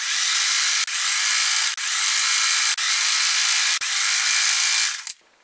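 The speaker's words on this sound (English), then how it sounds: "So I'm just going to sew all the way down." Sewing machine stitching a straight seam down a rag quilt, a steady high mechanical whir broken by brief pauses about once a second, then stopping near the end; close and alone with no talk.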